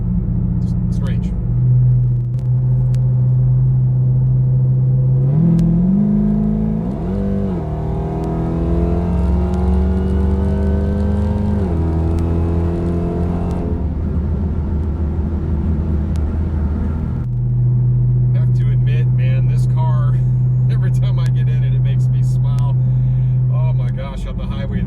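A Chevrolet Corvette C8 cruises on the highway, a loud steady engine drone with a rising, swelling pull as it accelerates midway, then settling back to a constant hum; heard close from inside the car throughout.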